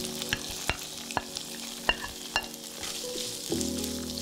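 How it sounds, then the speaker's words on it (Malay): Sardine filling with a little oyster sauce is stirred and fried in a pan, a soft sizzle under repeated sharp clinks and scrapes of a spatula against the metal. "Ni Cik Noor masukkan semua isi ikan sardin tadi."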